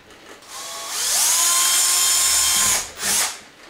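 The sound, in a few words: power drill boring a hole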